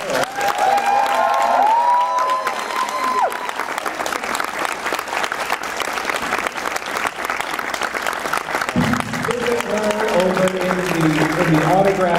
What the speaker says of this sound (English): I think this is a perfect place to applaud for Miss Pat Carroll.